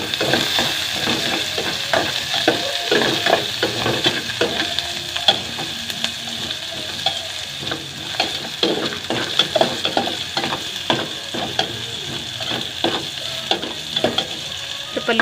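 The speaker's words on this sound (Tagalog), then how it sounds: "So, palutuin na natin yung sibuyas." Onions fry in a pan for a Filipino adobo, a close, constant sizzle broken by frequent scraping and stirring clicks from a utensil, with no talking.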